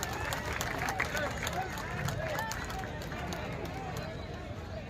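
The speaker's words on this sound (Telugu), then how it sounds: "సిద్దిపేట డిఎఫ్ఓ గారు చేస్తున్నటువంటి కృషిని అభినందిస్తూ ఒకసారి గట్టిగా చప్పట్లు కొట్టాలి" A large outdoor crowd at a half marathon event applauds loudly and continuously, dense clapping that holds steady throughout with a murmur of voices beneath it.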